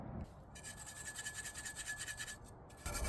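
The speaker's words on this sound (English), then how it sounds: "Doesn't hurt to clean old parts." Rhythmic scrubbing and rasping on an old mower deck spindle part being cleaned by hand, a steady back-and-forth scratch repeating quickly, close and moderately quiet with no talk.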